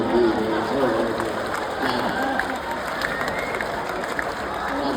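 An audience at a comedy poetry show (kavi sammelan) claps in a sustained, dense wave of applause with crowd murmur, while a voice talks over it.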